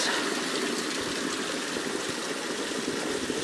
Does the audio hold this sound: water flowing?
yes